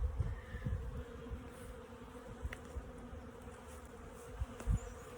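Honey bees at a bee farm hum in a faint, steady drone, with a few closer bees buzzing past in brief swells, and no voices.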